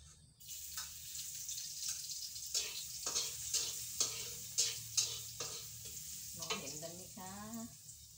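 Rice being stir-fried with naem sausage in a pan, loud enough to hear clearly, with rhythmic scraping strokes of the spatula over a steady sizzle, and a short burst of clattering near the end.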